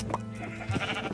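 Sheep bleating in a farming video game, a short bleat near the middle of the clip over steady in-game background sound, with no talking.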